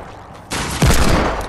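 Hand cannon gunfire in Fortnite, a loud close burst of shots with a sharp heavy blast near the middle, no talk over it.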